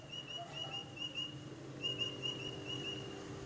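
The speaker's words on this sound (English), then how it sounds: "Ooh, another bird call." A bird call rings out as a series of faint, high, whistled notes in two short bursts over quiet background hum.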